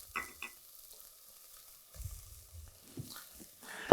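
Chicken stock being stirred into mushroom soup for a creamy mushroom and wild rice soup with sausage, with soft liquid swishes and a few utensil scrapes in short bursts, fairly close and quiet.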